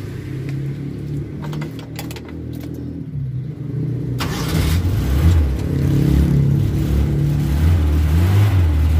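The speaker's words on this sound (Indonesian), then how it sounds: "Kita coba dulu mesinnya." A 1995 Suzuki Carry Extra engine cranks with a few clicks, catches, then idles and revs, its loud rumble rising and swelling over several seconds with no talking.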